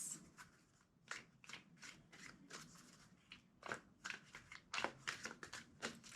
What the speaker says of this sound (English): Two more shuffles.